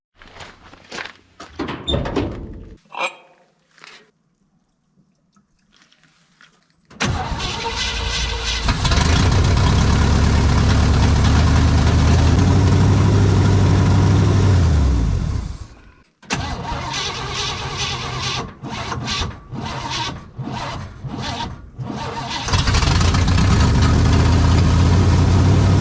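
A 1967 GMC 910 truck engine cranks over, catches and settles into a loud, steady run, cuts off briefly, then restarts with a few uneven revs before running on again.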